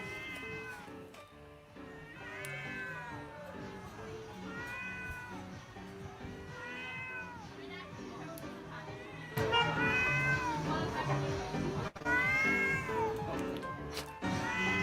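A cat meows repeatedly in a played recording, with drawn-out caterwauling calls in a loose rhythm over a busy background that grows louder in the second half.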